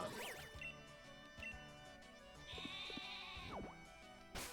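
Wooloo, the sheep Pokémon in Pokemon Sword and Shield, lets out a wavering bleating cry over game music, with synthetic tones and chimes around it and no talking.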